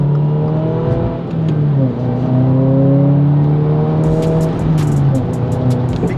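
A car driving at a steady cruise, with a constant loud engine drone and road hum filling the clip and a few faint ticks near the end.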